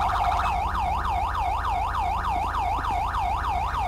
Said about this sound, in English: Can they turn off the siren?